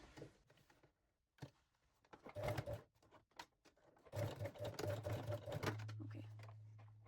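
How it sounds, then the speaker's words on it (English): A sewing machine set to a 3-step zigzag sews elastic onto panty fabric, starting with short stuttering bursts and then settling into a longer steady run, near and moderately quiet. "So I will set my machine to 3-step zigzag and sew the elastic."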